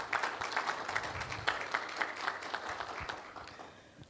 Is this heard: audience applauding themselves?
yes